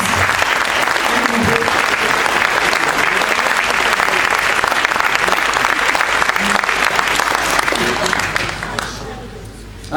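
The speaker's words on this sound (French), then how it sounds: "Merci d'applaudir Baptiste à l'Euphonium." Loud, dense applause from a concert audience at a Christmas concert, greeting a young euphonium player at his first concert, sustained for nearly ten seconds before beginning to thin out at the end.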